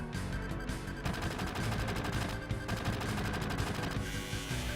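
Barrett's gun arm firing in Final Fantasy VII, a quick rattling burst of shots heard faintly over a busy game soundtrack with no voices.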